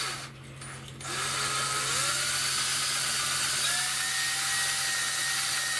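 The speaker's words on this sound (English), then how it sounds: "and I'm just angling the drill" A power drill spins up after a brief pause and runs steadily at high pitch, its whine shifting slightly as it works against material.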